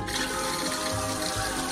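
A camp kitchen faucet runs water steadily into a cooking pot beside a two-burner stove, a close, continuous gushing and splashing with no speech.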